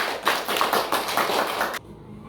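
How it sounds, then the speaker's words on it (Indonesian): A classroom of students claps together in a rhythmic pattern of about five beats, fairly close and loud, then stops sharply. "Oke, tepuk tangan semuanya."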